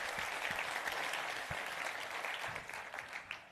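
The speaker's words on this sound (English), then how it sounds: "yes, a round of applause for Dom here" Audience at a real estate photography industry presentation applauds for Dom, a steady crowd clapping that holds then thins slightly toward the end, a few sharper individual claps standing out.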